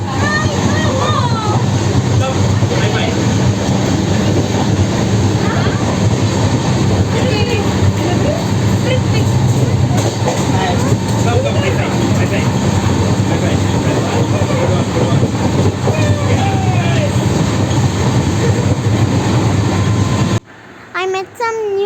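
Shatabdi Express train running on rails between Chennai and Bengaluru, a dense continuous rumble and rattle with whooshing noise heard from inside, ending abruptly near the close.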